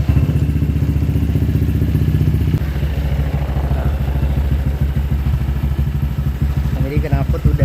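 A motorcycle with a freshly repaired exhaust runs close by, a loud, steady, throbbing idle with occasional revving and clattering near the end.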